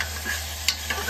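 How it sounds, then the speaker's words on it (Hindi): Potatoes being mixed in a cooking pot for vrat-style khichdi, a brief soft scraping stir with a faint sizzle under a steady low hum, a couple of small clinks standing out. "हम डालेंगे आलू को अच्छे से मिला लेंगे।"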